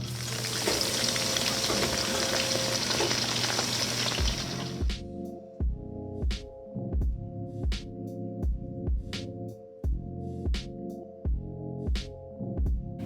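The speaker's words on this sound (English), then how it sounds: "So we cut these just into little pieces like this, and we're going to fry them." Onion strips fry in a pan with a loud, close sizzle for about five seconds, then a rhythmic series of sharp repeated tonal pulses with sizzle bursts continues to the end.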